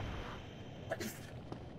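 A single soft sneeze rings out once, faint and brief, over quiet background noise during a Dark Souls gaming session.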